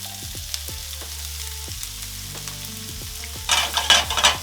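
Onion and pepper frying in olive oil over low heat, a steady soft sizzle with occasional clinks and stirring; the sizzle swells louder near the end.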